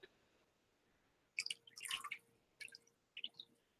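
Water drips and squishes as an item from a hygiene kit soaks and expands, heard as several quiet, close bursts of wet dripping and squelching separated by short pauses.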